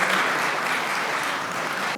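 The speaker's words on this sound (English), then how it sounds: "Let's give them a round of applause." An audience at a Korean American Day celebration applauds Vietnam War veterans with a dense, continuous wash of many hands clapping, loud and sustained throughout.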